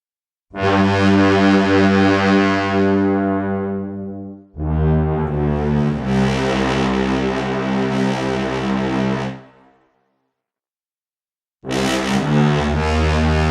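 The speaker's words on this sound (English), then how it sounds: "Here's the bass trombone." Bass trombone from the Soundiron Hyperion Brass Elements sample library plays long, loud, sustained low notes, three held tones separated by short gaps of silence, with no talking.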